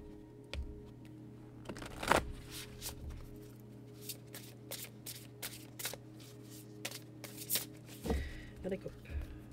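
A deck of tarot cards is shuffled close by in a string of crisp riffling bursts and soft slides, with brief pauses between them and a few faint knocks.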